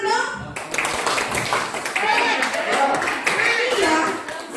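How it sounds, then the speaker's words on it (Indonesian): A group of teachers at an education training session performs a rhythmic spirit clap, a burst of patterned hand claps following a brief murmur, with voices chattering faintly underneath. "Tepuk semangat dong."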